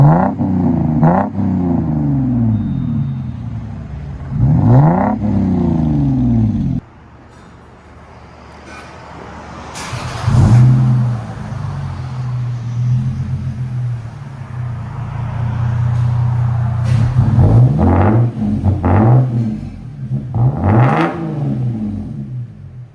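A 1998-2005 Lexus GS 300 3.0L inline-six engine revs hard in repeated bursts through a deep, throaty Magnaflow aftermarket exhaust, dropping to a rumbling idle between blips, loud and close, peaking at 107 decibels.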